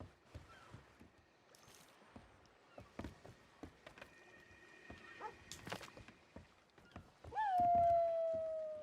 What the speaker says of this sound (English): What you howling out, Zero?